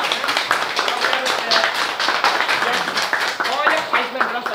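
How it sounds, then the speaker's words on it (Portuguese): Audience applause at a thank-you ceremony honoring a president and a councilwoman, a dense, steady patter of clapping from a crowd with talk and voices mixed in underneath throughout. "ele merece uma salva de palmas"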